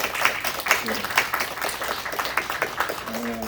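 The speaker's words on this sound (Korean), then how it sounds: "우리 격려의 박수 한번 부탁드리겠습니다" Church congregation claps in encouragement for a member just out of hospital, scattered, moderate claps rising and falling through the stretch with voices and some murmuring mixed in, and a faint tone near the end.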